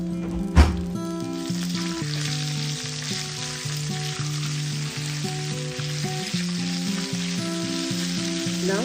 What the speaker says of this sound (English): Now add 2 stems of curry leaves.